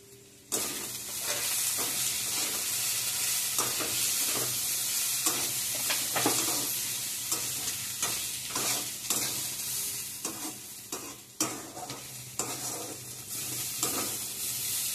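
Carrots frying in a pan while being stirred: a steady loud sizzle runs throughout, punctuated by repeated scraping and clattering stir strokes at an uneven rhythm, with no voices.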